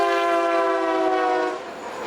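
A passing BNSF locomotive sounds its horn in a loud, sustained multi-tone blast that holds steady and then drops off at the end.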